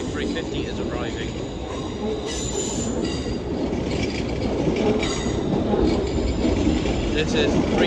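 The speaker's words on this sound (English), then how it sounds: "The London North Western Railway 350 is arriving." A London North Western Railway Class 350 train arrives at Primrose Hill, rumbling close and loud with high-pitched wheel squeal rising throughout as it slows.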